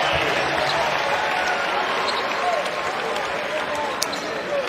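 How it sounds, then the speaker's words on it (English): A crowd cheers and applauds steadily at a Clemson versus Notre Dame college basketball game, a loud continuous roar in a large arena with a brief sharp sound near the end. "Crowd comes alive here for the last minute of the first stanza."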